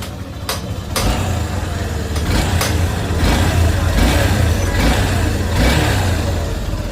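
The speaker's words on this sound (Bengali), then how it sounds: "এবার ইঞ্জিনের সাউন্ড শোনার পালা" A motorcycle engine running right after repair, a loud, close, steady low rumble with a few sharp clicks early on and slight rises in revs, no talk over it.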